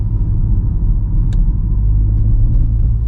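Low, loud rumble fills a Mini Countryman JCW cabin in sport mode as it rolls over a speed bump, with steady road and engine drone and one brief knock partway through.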